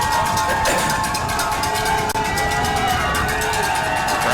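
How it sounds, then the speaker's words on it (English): At a high school football game, a big outdoor crowd roars continuously and loudly, with cowbells clanging rhythmically through the din. "Crowd loud as they've been all game."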